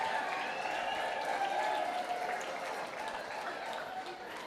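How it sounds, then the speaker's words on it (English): Sustained audience applause fills a hall at a Dr. B.R. Ambedkar 135th birth anniversary event as a dignitary is called to the dais, steady and dense with a faint murmur of voices beneath. "A big round of applause."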